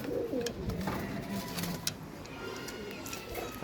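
Pigeons coo repeatedly at a high-flyer pigeon farm in Jashore, Bangladesh, with soft, close, overlapping throaty calls over a busy background of wing and cage noise.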